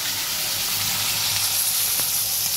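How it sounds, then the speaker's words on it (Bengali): Pieces of eel fish fry lightly in hot oil, giving a steady, close sizzle with a constant hiss that runs the whole way through, and no talking. "ল্যাঁচাটাও একটা হালকা করে ভেজে নেবো।"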